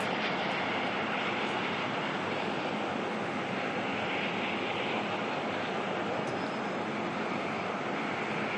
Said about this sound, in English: Listen to those props.